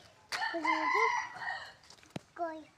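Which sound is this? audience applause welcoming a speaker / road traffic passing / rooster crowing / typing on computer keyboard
rooster crowing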